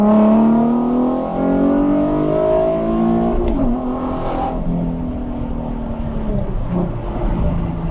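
A Nissan 370Z fitted with a 2023+ Nissan Z exhaust revs hard and climbs steadily in pitch under full acceleration, a loud, raspy exhaust note close by that drops off after a gear change.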